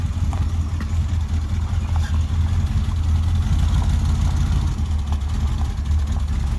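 A vintage street machine van's engine idles steadily and loudly with a deep, even rumble close by, with no voices over it.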